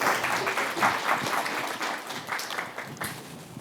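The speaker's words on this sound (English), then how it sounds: "give them a warm applause" A conference audience gives warm applause as panelists, among them a Cisco sustainability executive and a minister, come onto the stage, with steady dense clapping throughout.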